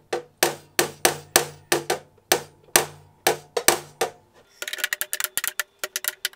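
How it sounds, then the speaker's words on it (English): Heavy hammer blows ring on a metal server case in a slow, regular series, followed by a quicker burst of lighter, sharper taps. "let's try to use a hammer to remove them"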